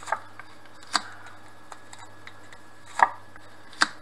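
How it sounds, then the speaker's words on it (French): A deck of tarot cards being cut and shuffled, with a few sharp, separate snaps and taps spaced across a quiet background, two of them louder near the end. "Allez, je coupe le jeu."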